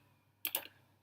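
A few quick keyboard keystrokes on a computer, two close clicks in a short burst, faint and alone in a quiet room.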